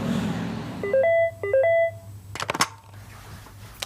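A phone number is dialed from a London hotel room: a short run of clear electronic tones, a few quick beeps and then a pair of longer ones, followed by a clicking, rattling handset noise.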